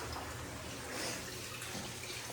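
Water is poured into a cooled mixture, a quiet, even trickling wash heard close and alone for a couple of seconds.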